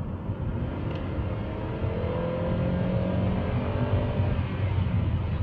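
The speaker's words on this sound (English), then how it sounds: "We're going to go ahead and do a little kick down." 2014 Hyundai Sonata GLS with a 2.4 four-cylinder under kick-down acceleration, heard from inside as a steady rising engine drone with road rumble, building slightly and holding loud throughout.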